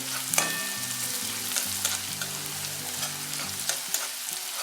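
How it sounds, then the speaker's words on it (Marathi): Grated coconut sautés in a pan for drumstick zunka, giving a soft, steady sizzle with light scraping stirs at a gentle rhythm and no talking. "खूप असा तांबूस भाजून घ्यायचं नाही आहे थोडासा परतू ना की लगेचच आपल्याला त्याच्यात शेंगा घालायचे"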